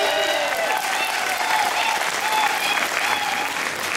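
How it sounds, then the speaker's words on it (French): Sustained audience applause fills a Miss Moselle 2013 pageant hall, dense and steady throughout, with faint voices and a little music or cheering mixed underneath. "vous pouvez l'applaudir."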